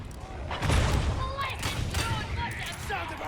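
Gunfire in the video game Warhammer 40,000: Darktide, a dense, booming burst of shots with heavy low thumps, layered under game sounds and a talking voice.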